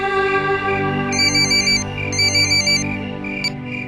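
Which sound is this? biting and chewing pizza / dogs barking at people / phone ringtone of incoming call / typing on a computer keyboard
phone ringtone of incoming call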